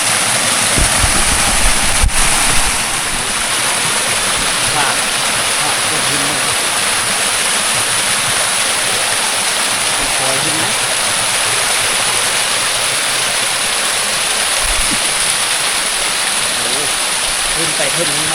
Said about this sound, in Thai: ขึ้นไปขึ้นนี้มันจะเป็นน้ำตกตาดอีกครั้ง